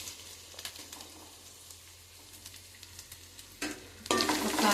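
Chopped carrot, onion and green chili frying in a pan for vegetable pulao, with soft sizzling and scattered scraping stirs, then a louder burst of sizzle near the end as more pieces are added.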